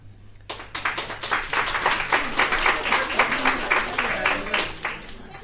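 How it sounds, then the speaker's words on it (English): A small audience claps at a poetry reading, scattered hand claps starting abruptly and building into lively applause, close and fairly loud, continuing for several seconds before beginning to thin out. "That put an end to the clapping"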